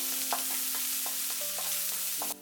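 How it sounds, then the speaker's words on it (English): Ginger and chopped garlic sizzle steadily in hot oil in a wok for a beef and Chinese cabbage stir-fry, with a utensil scraping and clacking against the pan in quick, repeated strokes. "When the oil is hot, put the ginger and the remaining chopped garlic. Regularly stir."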